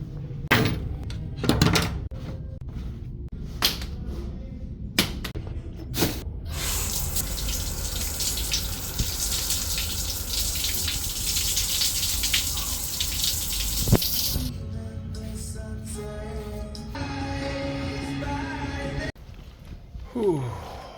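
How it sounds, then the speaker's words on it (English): Shower water running steadily and loudly for a long stretch, preceded by clunks and knocks of a door and fixtures, then the spray changes and stops near the end. "So I'm going to run in here and get this shower done."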